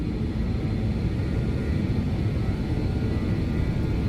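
The engines of a BAE 146 jet in a flight simulator game roar with a steady, low, dense rumble that stays even in loudness throughout, with no voices.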